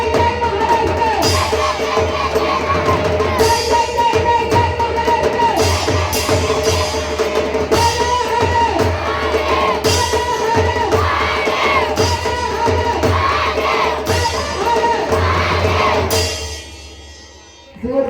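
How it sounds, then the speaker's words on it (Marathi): A large crowd at a Chhatrapati Shivaji Maharaj event cheers and chants in unison, loud and sustained with clapping mixed in, before it drops off near the end. "जोरदार टाळ्या म्हणतात तुमच्या सगळ्यांसाठी"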